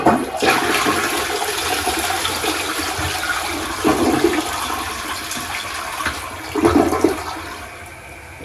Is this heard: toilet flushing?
yes